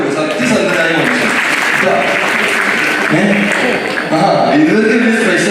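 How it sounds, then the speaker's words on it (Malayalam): Audience applause at a public event: continuous clapping that fills the whole stretch at an even, fairly loud level, with someone speaking over it. "അകത്തുള്ള മനുഷ്യൻ നോക്കിയിട്ട് ഒരു ക്ലാപ്പ് കൊടുക്കും"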